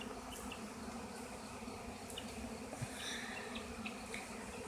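A wild swarm of tens of thousands of bees fills the air with a dense, continuous buzzing hum, close and steady, with occasional individual bees droning past.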